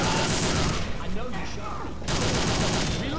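A 12 gauge shotgun booms repeatedly in Left 4 Dead 2 amid dense, noisy gameplay, with blasts near the start and end and a brief lull between.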